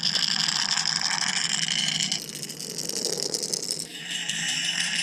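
A Bill Lewis Echo 1.75 crankbait rattles steadily underwater in stained water, a loud continuous metallic chatter that shifts in tone partway through, with no voices.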